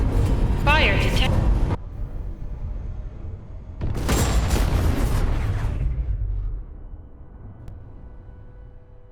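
A spaceship crash in Space Engineers 2 after failed parachutes and emergency thrusters, heard as a loud roaring burst and then a second heavy explosive rumble that slowly fades, with a voice speaking over it.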